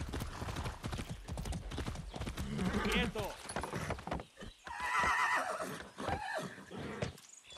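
Horse hooves clip-clop rhythmically alongside a horse's whinny in the video game Far Cry 6, with a voice speaking over the hoofbeats.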